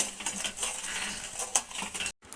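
A spoon stirs sugar into thickened milk in a pan, scraping and clinking against the metal in quick, close taps with a steady soft rustle, briefly cut off near the end.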